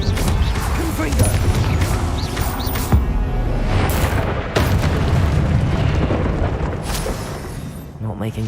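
Repeated fire-spell explosions in the Hogwarts Legacy video game, several loud booms and crashes in quick succession over dense, continuous game noise with speech mixed in.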